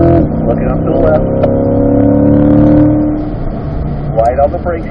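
A race car on the Spring Mountain track accelerates hard out of a corner, its engine note climbing steadily and loudly up close, then easing, with a voice speaking over it.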